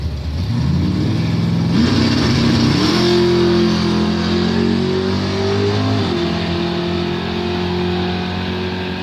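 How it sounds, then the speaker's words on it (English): A Mustang top doorslammer drag car at a Bonfire Salute drag race roars loudly and steadily down the strip, its engine note climbing through gear changes over a constant wall of noise. "Perfect ET run there for the Mustang."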